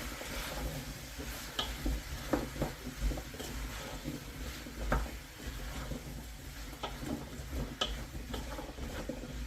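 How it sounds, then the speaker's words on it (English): Mustard powder being stirred into a pan of beef stew before the stock goes in, a soft scraping and ticking of the spoon against the pan with faint sizzling, close and moderately quiet. "So again, I'll give that a quick stir."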